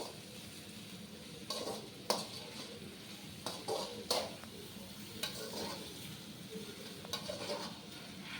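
Dragon chicken ingredients being sautéed in a pan over a steady low sizzle, with intermittent scraping stirs and light clinks of a utensil against the pan at irregular intervals.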